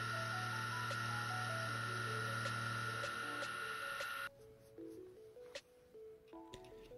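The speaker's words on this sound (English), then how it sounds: "I need to mill it down to 60 millimeters." A milling machine cutting a roughly 20 mm thick part down to 60 mm: a loud, steady tonal motor whine with shifting pitches drops away after about four seconds, leaving quieter stepped tones and light mechanical noise.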